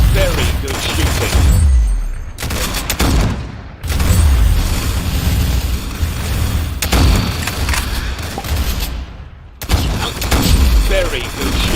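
A video game firefight roars with sustained bursts of gunfire, booming blasts and mechanical clatter, loud and close, cut by brief gaps and with voices mixed in beneath the barrage.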